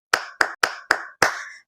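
Children clap hands in a rhythm song: four evenly spaced crisp claps followed by a fifth slightly delayed, ringing clap, close and loud with no voices.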